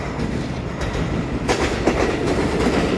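A ten-car silver-green EMU900 Smile electric train, set EMU904 on a test run from Qidu on the North-link line, rumbles past close by, its steady roar swelling and then carrying clattering wheel noise through the whole stretch.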